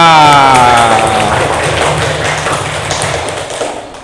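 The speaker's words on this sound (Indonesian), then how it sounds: "Tepuk tangan dulu untuk kita semua" Children in a classroom clapping their hands together, a dense burst of claps close by that continues for several seconds, with a voice heard briefly at the start.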